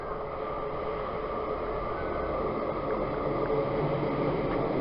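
A train rolls along the seaside railway at Dawlish, a steady, loud rumble and rushing noise that holds evenly from start to finish with no pause.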